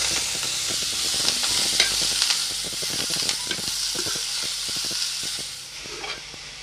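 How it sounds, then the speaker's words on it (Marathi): Fenugreek leaves and garlic sautéing in hot oil in a home kitchen, a steady loud sizzle and hiss throughout with scattered crackles and stirring scrapes, no talking. "लसूण आणि मेथीची भाजी ही तेलात छानशी परतून घ्यायची"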